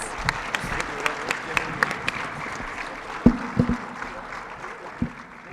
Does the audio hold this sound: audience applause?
yes